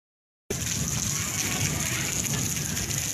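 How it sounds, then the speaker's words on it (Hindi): Steady monsoon rain pours down on a haveli courtyard after a brief silence, a constant hiss of falling water with no voices. "बारिश का पानी के नीचे नहाने"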